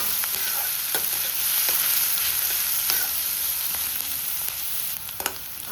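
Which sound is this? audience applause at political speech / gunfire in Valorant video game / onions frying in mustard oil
onions frying in mustard oil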